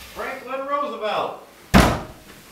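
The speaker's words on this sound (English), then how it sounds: "Door." A door slams hard once, a sharp, loud thud that comes after someone speaks or sings in a drawn-out voice.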